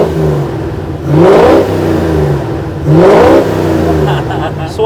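Jeep Willys fitted with a V8 and carburetor, revved twice through its exhaust, each loud, rising blip settling back to a steady throaty idle between.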